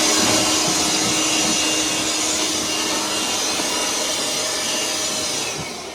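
A Milwaukee M18 cordless workshop blower runs flat out on its highest setting, giving a steady, loud broadband rush of air that holds for several seconds and then eases off slightly at the very end.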